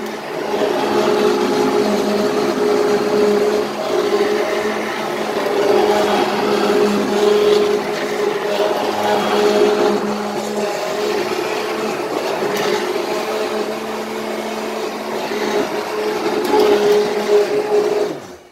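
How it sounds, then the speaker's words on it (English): A blender purées pasta e fagioli into a creamy soup, giving off a steady, loud motor whir with a sustained mechanical hum that holds continuously throughout with no talking. "we're just coming up to the end of the blending now"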